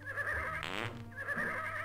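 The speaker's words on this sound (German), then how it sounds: "Hier, die Pferde furzen schon wieder." Horses in the video game Freddy Pharkas let out a short, wavering, flatulent rasp over a constant background music loop.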